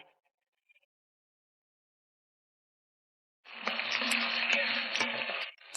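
Tomato and tamarind sautéing in a pan for chutney make a steady, close sizzle that starts abruptly after a few seconds of silence and runs on loudly.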